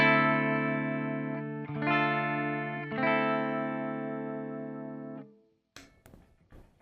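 Electric guitar chords ring out through an EVH amp on the clean channel, played on a Charvel Satchel with Fishman Fluence pickups in the first voice: three sustained strummed chords, loud and alone, with a short noisy tail at the end.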